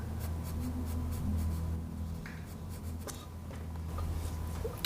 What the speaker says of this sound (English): we can draw in the slit of the pupil, which is an angled line that goes something like this